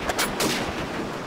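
Gunfire in the video game Call of Duty 4 Modern Warfare, a few sharp, loud shots in quick succession over a noisy background, with no talk.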